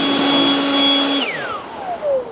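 An electric blower clears metal shards left from cutting an aluminum deck rail. Its loud, steady whine holds for about a second, then cuts off and spins down, the pitch sliding lower as it fades.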